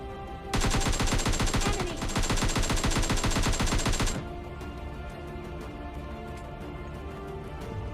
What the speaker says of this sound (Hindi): जैसे ही मैंने इस बंदे पर फायर किया